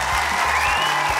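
Audience applause at a children's talent show, a brief burst of steady clapping from a crowd.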